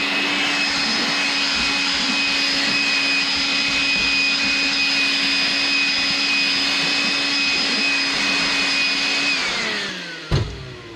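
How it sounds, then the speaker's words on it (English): A small vacuum cleaning out a Husky tool box whines steadily at close range with a constant high-pitched motor tone, then winds down and cuts off near the end with a brief knock. "I like to use this vacuum"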